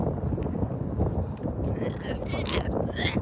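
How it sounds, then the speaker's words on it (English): Heavy wind buffets the microphone with a constant low rumble, and a voice is faintly audible under it near the end. "this is really windy"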